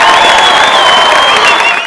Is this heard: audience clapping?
yes